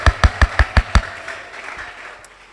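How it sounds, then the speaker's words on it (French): A church congregation claps at a French and Swahili service, six loud sharp claps in quick rhythm that then fade into a quieter room. "Applaudissons pour elle encore une fois."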